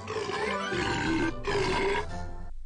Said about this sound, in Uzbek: Kekirgan g'alati maxluq.